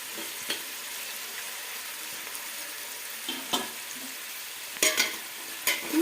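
Sambar ingredients, including onion, brinjal and sprouted legumes, are stirred in a pan over a constant low sizzle, with occasional spoon scrapes and sharp metallic clinks close by.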